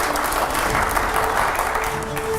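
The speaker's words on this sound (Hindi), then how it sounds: "अगले सवाल के लिए जोरदार तालियां हो यहां पर" An audience at a live Hindi-language talk event claps steadily and energetically throughout, as sustained applause with no individual voices standing out.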